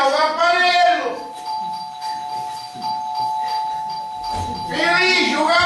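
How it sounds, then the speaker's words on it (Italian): A doorbell chimes with a steady ringing tone between bursts of loud, excited speech, the bell clearly audible in the gaps of an Italian comedy scene. "O campanello!"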